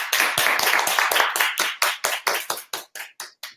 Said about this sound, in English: let's give Yeabu a round of applause